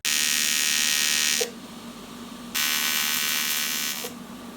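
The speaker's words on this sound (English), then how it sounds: "try to weld around the hole" An electric welder tacking a tube onto an oil drain tank for a turbocharged Subaru EZ30R engine swap, two loud steady buzzing bursts of about a second and a half each with a quiet gap between.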